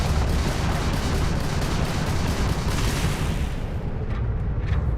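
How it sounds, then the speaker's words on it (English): A particle turret firing in the space game Starfield, heard as a dense, loud barrage of rapid bursts and blasts, thinning out in the last second into a few separate pops. "Particle turret."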